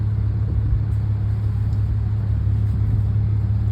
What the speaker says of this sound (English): There's some work trucks going